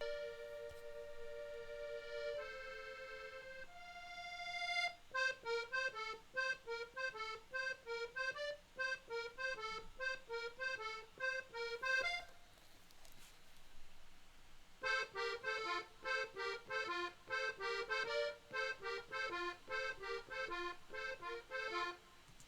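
Funky accordion part in a mix with chorus and delay, tape emulation switched in partway; bright rhythmic chordal stabs and sustained notes, a brief pause near the middle, then the busy riff returns, no talking.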